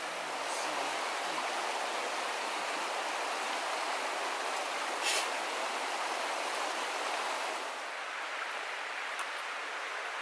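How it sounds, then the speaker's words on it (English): Brook running beside a campsite, a steady broad rush of flowing water with no break, fairly soft and even with no voices. "we got all my beers staying cold in the brook"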